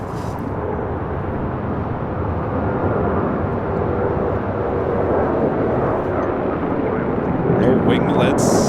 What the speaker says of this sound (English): This is Alaska Airlines 1398 taking off to Mazatlan